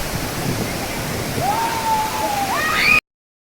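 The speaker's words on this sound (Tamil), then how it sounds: "என்னமா இருக்குது பாருங்கள் அந்த அருவி" Masila waterfall in the Kolli Hills roars steadily as a broad, continuous rush of falling water, loud and close, with a thin whistling tone rising over it near the end.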